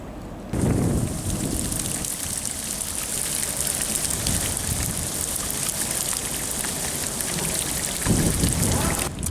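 Steady rain falls beside the River Thames in London, a dense, even patter on the surface that continues throughout with no voices.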